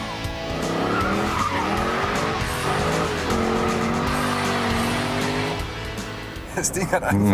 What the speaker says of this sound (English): The engine has just far too much power for this car, I think. It smokes and smolders and pushes continuously.